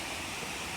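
Pangas Falls, a waterfall on an island, pours as a steady broadband rush of water, faint and continuous with no voices over it.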